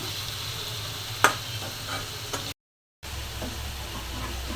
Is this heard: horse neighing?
no